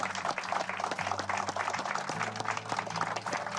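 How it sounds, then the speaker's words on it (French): An audience applauds steadily in a dense, even wash of many hands, with quiet voices mixed underneath. "On applaudit tous."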